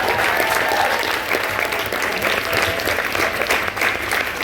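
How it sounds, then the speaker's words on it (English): A live audience at a writers' round show applauds the artists with steady, sustained clapping that fills the room throughout. "one huge more round of applause for our artists"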